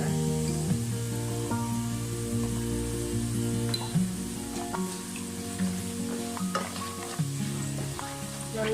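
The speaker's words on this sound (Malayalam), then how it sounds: "നന്നായിട്ടൊന്ന് വഴറ്റി കൊടുക്കാം." Chili powder, both hot and Kashmiri, sautéing in oil for a Kerala-style gooseberry pickle: a steady close sizzle with scraping stirs throughout, under a tonal background hum.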